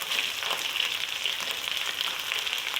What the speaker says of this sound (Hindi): अब इसमें जाएगा लहसुन अदरक और हरी मिर्चों का पेस्ट। और देखिए लहसुन अदरक भुन चुका है,